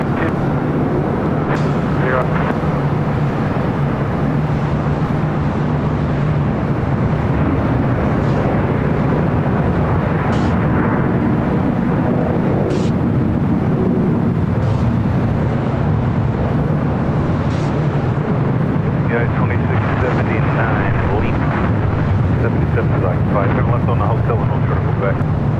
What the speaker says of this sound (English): The United 777 arriving on 25 left